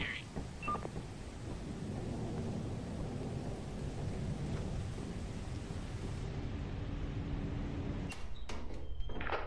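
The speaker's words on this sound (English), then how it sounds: "I hear the lightning and it's very scary." Rumbling thunder from a lightning storm in the video game Lethal Company, a continuous heavy roll that stays loud for several seconds before giving way to sharper clicks and thuds near the end.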